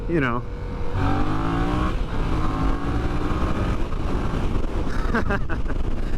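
A Yamaha XS motorcycle engine revs up with a rising whine, then holds a loud, steady roar mixed with heavy wind noise close to the microphone.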